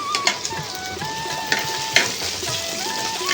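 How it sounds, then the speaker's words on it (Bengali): Potato, pumpkin and drumstick pieces fry in a pan with a steady sizzle, broken by sharp spatula scrapes and clinks against the pan; a faint tonal whine drifts in the background, no voices. "এটাকেও একটুখানি ভেজে নেব"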